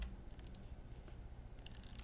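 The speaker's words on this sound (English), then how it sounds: "So if I type in damn" Quiet keystrokes on a computer keyboard while entering a word into a JavaScript web form, a short run of light irregular clicks over a low background hum.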